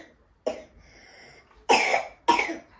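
An adult coughs indoors: a short first cough, a pause, then two harsh, close coughs in quick succession, with no talking.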